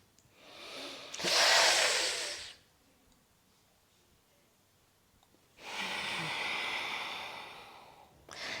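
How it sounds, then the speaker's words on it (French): One close breathing-exercise cycle: a sharp, hissing inhale drawn through clenched teeth, a pause of near silence, then a long, softer exhale through the nose. "J'inspire, j'ouvre la bouche, je serre les dents. J'expire par le nez."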